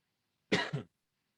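A single close cough in two quick bursts breaks the silence, then quiet follows.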